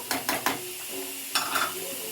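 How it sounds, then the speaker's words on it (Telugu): Egg kurma gravy bubbling and sizzling in a pan, with a few clinks and scrapes of a spoon stirring near the start and again midway over the steady simmer. "గ్రేవీ బాగా మరిగిందో లేదో ఒకసారి చూసుకోవాలి బాగా మరిగిపోయింది గ్రేవీ"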